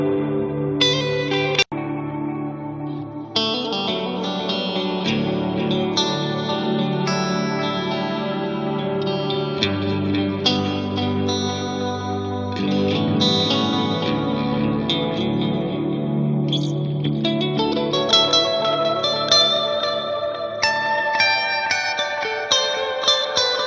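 A mono amplifier guitar recording is played dry and then with stereo-widening plugins, giving continuous distorted, echo-laden chords and riffs with a brief cut near the start, loud and unbroken.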